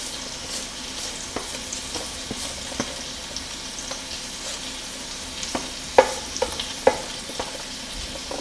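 Previously cooked cabbage tipped into a hot pan and stirred, frying with a steady close sizzle and occasional scraping clicks of the utensil, no voices.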